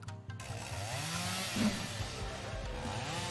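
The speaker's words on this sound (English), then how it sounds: "She started the chainsaw's engine and thrust its vigorously rotating blades out at me." A chainsaw engine starts and its chain spins up in a tense confrontation, with a short burst at first and then a sustained buzzing whine that rises and falls.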